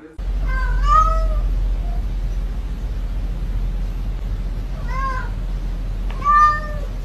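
A cat meows three times, spaced apart, over a steady low background hum; the cries are clear and close.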